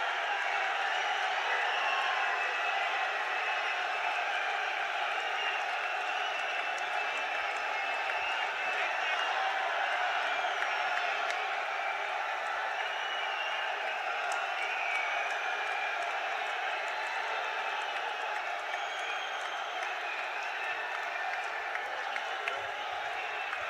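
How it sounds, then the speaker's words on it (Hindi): A large rally crowd in Pushkar applauds to welcome Modi, a dense and continuous wash of clapping and crowd noise that holds loud throughout. "इस दिन के स्वागत के लिए हम सब तालियां बजा।"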